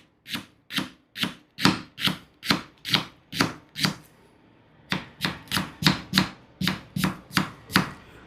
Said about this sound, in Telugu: ఉల్లిపాయల్ని ఇలా కట్ చేసుకోవాలి